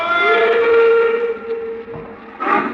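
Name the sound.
train whistle as a train pulls away, radio drama effect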